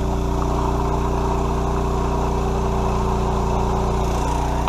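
An engine-driven water pump pumping water into a waterfowl impoundment runs at full throttle, a loud, steady mechanical drone with a strong low hum that holds constant throughout, with no voices.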